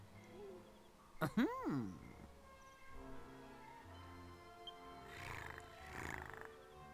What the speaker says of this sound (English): He shouldn't be purring, he should be growling and trying to scratch me.